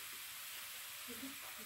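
Onion and peppers fry quietly in a pan, a faint, even sizzle with soft stirring over a short stretch.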